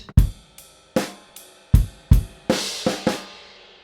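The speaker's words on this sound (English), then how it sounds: "you're going to play a crash with the backbeat on the snare drum." Rock drum kit groove at grade 3 level with a crash cymbal landing on the snare backbeat: loud, close hits in a steady pattern, with kick and snare accents and cymbal wash building toward the end of the bar.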